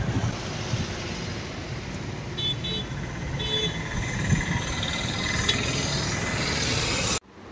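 Sea waves at Puri beach, near the Marine Drive road, make a broad, steady wash of surf mixed with wind rumble. The sound continues unbroken at a moderate level, then cuts off abruptly.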